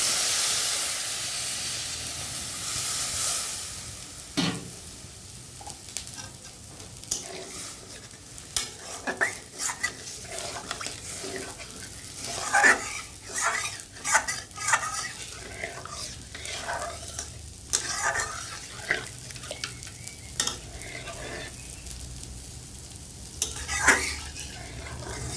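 Bitter gourd and pumpkin fry in a pan under a steady hiss, broken by repeated scraping and clinking as the pieces are stirred, close and fairly loud.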